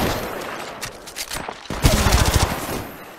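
Bursts of rapid automatic gunfire in the mobile battle royale Apex Legends Mobile, a dense loud fusillade of shots that intensifies partway through, with no speech.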